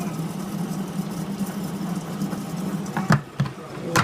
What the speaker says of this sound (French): Ça va mixer mes oignons déjà.